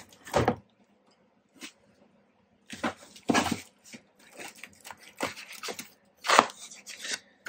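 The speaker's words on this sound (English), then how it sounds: "Let me tear open this packaging here" Heavy-duty plastic wrapping, like a thick construction bag, being torn open around a boxed toy blaster: irregular crinkling rips and scrapes in uneven bursts separated by quiet pauses, close up.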